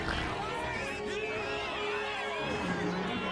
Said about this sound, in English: Wow, people are cheering.